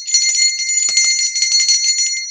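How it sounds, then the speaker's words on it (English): A bright, clear bell ding rings out as a notification sound effect, a sustained metallic tone with rapid repeated strikes lasting a couple of seconds, loud and alone with no talking. "And ring the bell."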